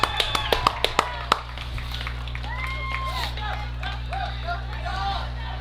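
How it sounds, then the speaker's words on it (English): Scattered hand claps open a burst of applause at a high school senior night football game, then the crowd settles into a low murmur with a few distant shouts, faint and far from the stands. "big round of applause for Kendall Macias, the Nowata Ironman senior"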